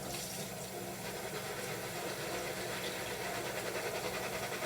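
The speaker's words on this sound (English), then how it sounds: "I give it one last little rinse" Steady running water rinses cranberry beans being prepared for the freezer, a continuous close splashing hiss with no talk.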